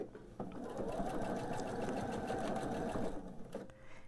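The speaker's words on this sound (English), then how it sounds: "I am now going to go ahead and sew the entire length of this seam to sew these two rows together" A sewing machine stitches a long quilt seam joining two rows of the top, running in one steady, close whirring burst for nearly three seconds before stopping.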